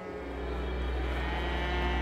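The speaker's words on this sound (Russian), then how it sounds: "Над степью стоял рев и блеяние бесчисленных стад, окружающих столицу." Countless herds of cattle low across the open steppe around the capital, Karakorum. The deep mooing is steady and sustained, with no voices over it.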